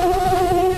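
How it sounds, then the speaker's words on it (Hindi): Mosquitoes buzz close by in a steady, high whine with a strong even hum, continuous and alone, the kind that carry dengue and malaria in the Himalayan hills. "हिमालय की पहाड़ियों पर भी अब खतरनाक डेंगू और मलेरिया के मच्छर मिल रहे हैं।"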